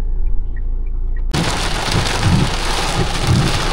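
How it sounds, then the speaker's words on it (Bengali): Heavy rain pounds a car pulled over at the roadside on a long highway road trip, bursting in suddenly after a quiet second and then roaring as a dense, steady downpour. "দেখো এত জোরে বৃষ্টি নেমেছে যে আমরা রাস্তার সাইডে দাঁড়াতে বাধ্য হলাম।"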